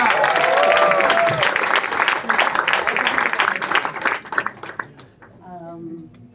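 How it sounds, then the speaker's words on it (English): Audience applause for a storyteller at a storytelling evening, dense and sustained clapping with some crowd noise for several seconds, tapering off as a voice begins speaking near the end. "give another round of applause for Christina"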